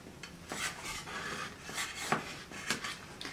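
A spatula scrapes cheeseburger pie out of a pie pan, several short rasping scrapes of metal against the pan bottom, close and moderately loud, with no talking.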